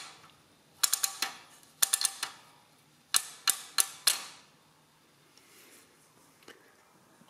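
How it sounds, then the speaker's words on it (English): The number wheels and carry mechanism of a SIMEX Caroline adding machine turn, giving close, crisp mechanical clicks and ratcheting ticks in short bursts with pauses between them. "When a wheel gets moved, this arm moves back, and when it passes zero, the arm gets released and pushes the next wheel one step forward."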